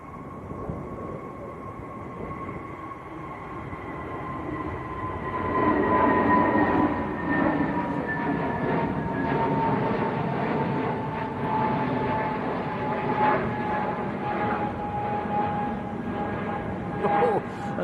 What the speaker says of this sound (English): This one's out to Munich, and this is an A320 Neo.